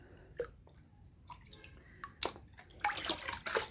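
Rice washing water poured onto potted plants at the roots, a soft irregular splashing and dribbling that builds toward the end, close and fairly quiet with no talking.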